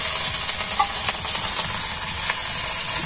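Leafy greens hit a hot pan in a village kitchen and sizzle steadily, a close, loud hiss of frying that holds throughout with no talk.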